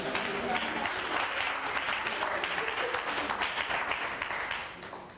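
A church congregation breaks into sustained applause, a dense wash of many hands clapping at once that stays loud and even before tapering off at the end.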